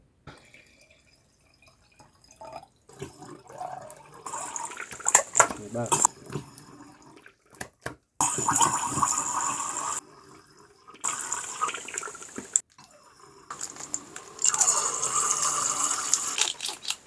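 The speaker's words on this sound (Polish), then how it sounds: "Wleję na razie pół litra wody" About half a litre of water is poured into a container for a homemade rust-removal test: intermittent splashing and trickling bursts, fairly close, with someone talking between pours.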